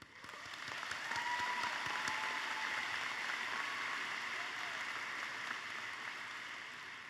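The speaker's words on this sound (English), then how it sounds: "And give yourselves a round of applause." Graduates at a Curry College commencement applauding themselves, a large crowd's steady wash of clapping that rises quickly, holds through with faint cheers, then eases slightly.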